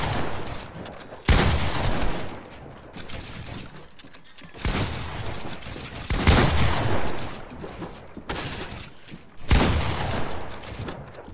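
Gunshots from Fortnite come as loud bursts of rapid fire, three main volleys with quieter shots between, close and dominant, with faint talk underneath.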